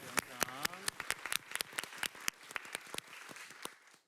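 An audience at a K-pop panel discussion claps in scattered, distinct hand claps. A voice is heard briefly at the start, and the clapping thins out and fades away.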